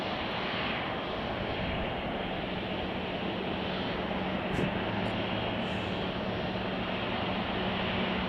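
A Boeing 777 freighter just arrived from Anchorage, Alaska, at Chicago O'Hare, its engines a steady broadband roar with a faint low hum, continuous and fairly distant across the whole stretch.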